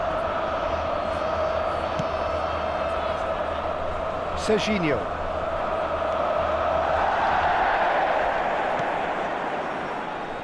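A stadium crowd in the eFootball video game keeps up a steady, moderate murmur and roar throughout, rising slightly near the end, while a match commentator talks over it.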